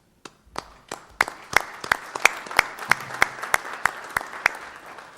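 Applause at a board meeting, a small group clapping: scattered claps build into a brisk, fairly close patter that continues for several seconds with no one speaking.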